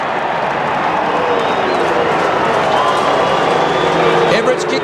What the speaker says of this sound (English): the crowd still going crook about the non-free kick